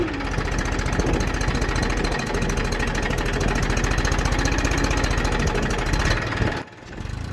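A Massey Ferguson 241 tractor engine labours under heavy load while pulling a 2MB manual reversible plough through black soil, a loud, steady, knocking drone that sags near the end as the revs drop, close by with no talk.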